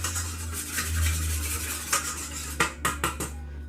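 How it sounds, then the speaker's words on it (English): Herbs being whisked into oils in a pot on a stovetop: a continuous scraping, clinking metal whisk against the pot, close and fairly loud, ending in a few distinct sharp taps. "I'm just whisking these herbs into the oils."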